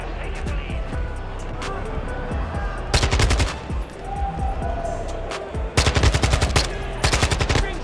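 Several bursts of rapid automatic gunfire in Modern Warfare 2, volleys cracking out between quieter stretches of background clatter and noise.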